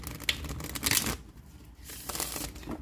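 Tarot cards are shuffled by hand in close, crisp riffling bursts of papery rustling and flicking, separated by a short pause, with no speech.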